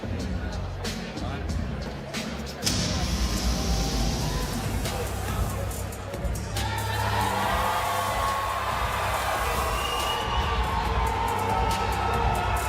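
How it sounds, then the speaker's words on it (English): Crowd at a BKFC bare-knuckle fight night in Omaha roars and cheers for a fighter from nearby Lincoln, Nebraska, a dense, sustained wash of voices that swells partway through and stays loud to the end. "You hear the pop from this Omaha crowd"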